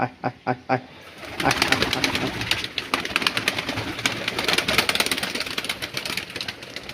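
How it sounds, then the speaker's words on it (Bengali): Pigeons released from their loft burst out in a close, loud flurry of flapping wings that continues steadily, preceded by a few short soft calls. "চলো এবার কিছু কিছু পায়রাকে বাইরে ছাড়ি"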